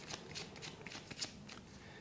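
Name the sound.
shuffling tarot cards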